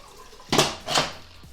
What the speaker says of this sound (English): Into the Instant Pot. Submerge it with warm water.